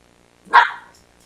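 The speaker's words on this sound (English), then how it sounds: "What, my dog barking?" A single sharp dog bark rings out once, close and loud, then fades quickly into near silence.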